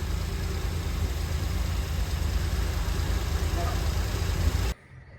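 A Jaguar E-Type engine idles steadily with a low, rumbling drone, then cuts off abruptly near the end, leaving quiet.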